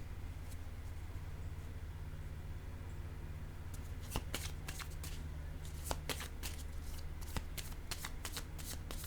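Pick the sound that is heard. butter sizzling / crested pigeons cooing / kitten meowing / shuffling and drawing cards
shuffling and drawing cards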